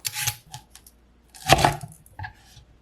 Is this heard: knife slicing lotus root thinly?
yes